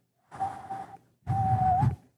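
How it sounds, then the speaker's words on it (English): Two short, breathy whistles, the first thin and wavering, the second longer with an airy, hissing tone, as someone struggles to whistle cleanly. "I tried to whistle there, but I couldn't."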